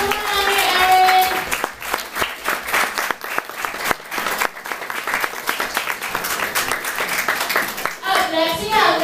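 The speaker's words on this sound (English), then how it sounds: "we're gonna keep our hands clapped and introduce Erin Hutt" An audience applauds steadily at a 2015 fashion show, loud sustained clapping throughout, with a few voices and a child's chatter mixed into the crowd.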